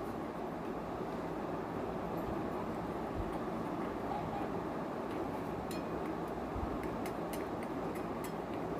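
Bengali poppy seed paste (posto bata) simmers in a pan on the stove with a steady, low, dense bubbling. A few faint ticks and pops sound over it throughout.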